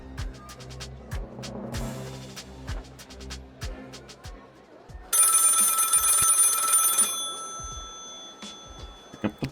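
A telephone bell rings in the video game Lil' Guardsman, with repeated ringing bursts over sparse game music and other effects, a louder ringing stretch in the middle.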